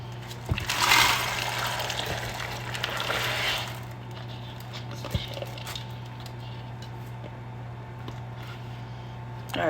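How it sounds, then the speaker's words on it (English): Pinto beans and water poured into a crock pot, a rushing splash for a couple of seconds followed by quieter trickling and a steady background hum. "we already know our beans are good, so we're just going to put them in the crock pot"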